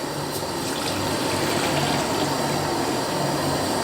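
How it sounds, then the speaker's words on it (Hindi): Water pours steadily into a metal cooking pot set on a camp stove, a continuous gushing, splashing fill that stays even and fairly loud for about four seconds, with no talk over it. "इसमें पानी डाल देते हैं।"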